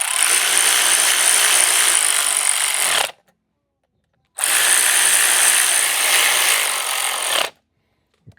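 An air ratchet runs bolts into a 2011 Harley-Davidson Ultra with a 103 engine in two sustained, loud, close bursts of about three seconds each, separated by a brief silence.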